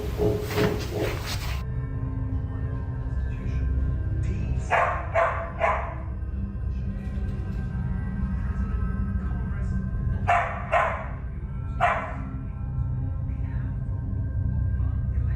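Several short bursts of dog barking inside a house, clustered in quick groups of sharp barks at moderate distance, with a steady low background hum between them.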